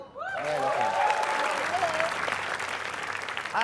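Applause from a rooftop comedy show audience, a steady wash of clapping under a host's voice speaking over it near the microphone, with the clapping fading toward the end.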